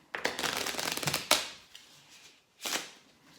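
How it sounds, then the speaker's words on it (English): Playing cards shuffled by hand during a magic trick: a dense riffling burst of about a second, a sharp snap, then a shorter second riffle after a pause, close and fairly loud. "we're going to shuffle those one more time."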